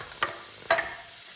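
Shallots sauté in olive oil in a pan, a soft steady sizzle broken by two brief clinks of a utensil stirring.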